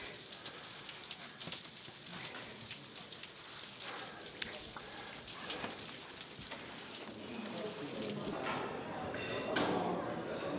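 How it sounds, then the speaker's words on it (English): Rain falling and water dripping on a rainy day at the Grand Canyon North Rim, a steady dense patter of drops close by with a rising wash near the end. "There I have water dripping."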